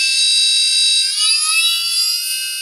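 A brushless DC motor driven by an ESC whines at high RPM, a loud, piercing steady tone with stacked harmonics that wavers slightly in pitch, close and alone.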